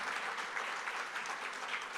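An audience at a round-table event on the bicentenary of the 1824 Constitution breaks into steady applause, a dense patter of many hands clapping without pause.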